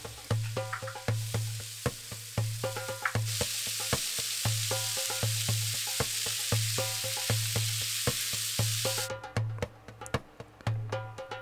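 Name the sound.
stir-frying chopped onion and carrot with butter and kabsa spice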